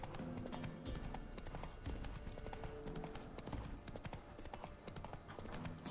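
Steady galloping hoofbeats of the horse Roach in The Witcher 3: Wild Hunt, a fast, continuous clip-clop rhythm heard close and fairly quiet, with no talk over it.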